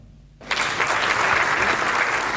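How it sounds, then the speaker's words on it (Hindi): Audience at a Hindi kavi sammelan poetry gathering bursts into applause after a brief quiet moment, dense sustained clapping that stays loud to the end. "तालियां चाहूंगा"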